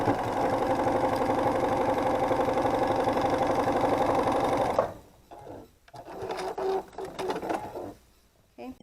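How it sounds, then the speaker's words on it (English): A sewing machine stitches a seam on a fabric tote bag, running in a fast, steady whir for about five seconds before stopping, followed by a few shorter bursts of stitching with pauses between them. "I'm going to stitch forward 2 or 3 stitches and then back 2 or 3, and then we're going to stitch all the way down and off."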